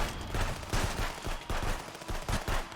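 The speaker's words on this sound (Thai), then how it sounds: "โอ้มันมีปืนกลกันด้วย" Rapid machine gun fire crackles in the police border-checkpoint game Contraband Police, several bursts of quick, dense shots coming in waves at a moderate distance, without talking.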